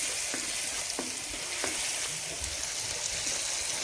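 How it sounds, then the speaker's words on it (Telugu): Green chilies and mint frying in a pan for capsicum curry while being stirred: a constant close sizzle with repeated soft scraping strokes of the spoon through the pan, no talking. "దీంట్లోనే పచ్చిమిర్చి, పుదీనా, ఇది పచ్చి వాసన పోయేంత వరకు మంచిగా అయితే మిక్స్ చేసుకోవాలి."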